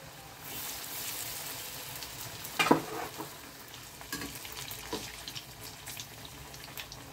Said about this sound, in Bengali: এটাকে আমি এইভাবে 1 মিনিট মতো মাঝারি আঁচে এটাকে ভেজে নিলাম।